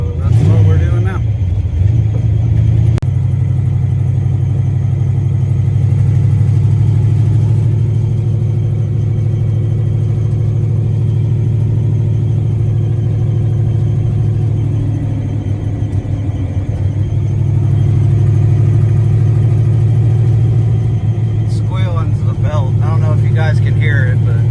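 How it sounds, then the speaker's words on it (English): A car with a worn engine belt drives slowly home after a rear quarter panel was destroyed. The cabin is filled with a loud, constant low rumble, with a thin, steady high squeal running over it. "I need to put a new belt on it. It's squealing pretty hardcore."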